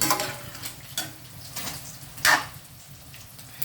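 Adobong bakwang sizzles and fries steadily in a pan, a soft, close crackle broken by clicks and scrapes from stirring, with no talking.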